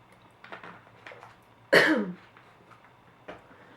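One sharp, loud cough stands out in a quiet room, surrounded by softer breathing and small mouth noises.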